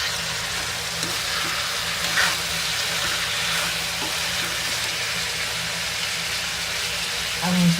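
Mashed eggplant for baingan bharta sizzles and fries steadily in a hot pan, a constant crackling hiss with faint stirring scrapes and occasional soft clinks.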